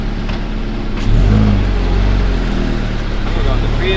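Gen 1 Subaru BRZ pulls away close by, its engine note rising steadily and holding loud throughout, with voices speaking over it.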